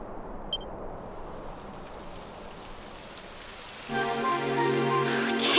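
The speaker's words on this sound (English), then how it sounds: "It would have to go and start raining, wouldn't it?" Steady rain hiss sets in across a Dragon Quest XI game scene, with a brief chime early on and a louder tonal musical layer joining partway through, no voices present.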